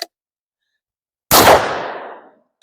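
A single loud rifle shot from a Howa MVP cracks out of silence, its sharp report decaying over about a second with a lingering outdoor tail.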